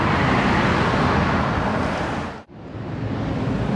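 Street traffic and buses on King Street, Newtown make a dense, loud roadway rumble that is constant apart from a brief cut midway, with no talking.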